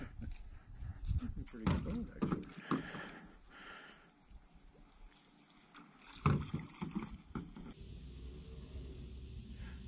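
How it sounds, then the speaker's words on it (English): Oars dip and pull through water as a small boat is rowed outdoors, with irregular splashes and strokes under wind noise on the microphone and some distant voices. "it turns out the boat had oars with it, so we had to test it out"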